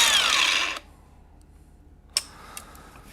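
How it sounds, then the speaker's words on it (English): A cutoff wheel power tool on an '85 Cutlass during a Wilwood disc brake job whines at high speed, then spins down and stops, followed by near silence and a couple of sharp clicks. "I'm going to use the cutoff wheel."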